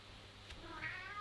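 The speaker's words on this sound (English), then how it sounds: "He's meowing at me." A cat gives a single soft, faint meow near the end of a quiet indoor stretch with a steady background hiss.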